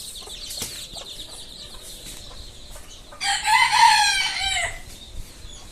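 On a poultry farm with a brooding setup, chickens cluck in the background before a rooster lets out one loud, close crow lasting about two seconds.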